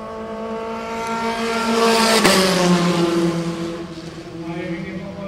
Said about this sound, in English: Shivan of Thailand coming through the last corner, in P7.